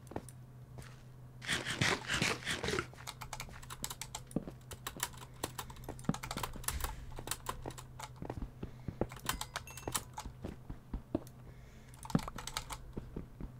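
Steady typing on a computer keyboard and mouse during a Minecraft session, with quick, close key clicks and clatter that run through the whole stretch in irregular bursts with no talk.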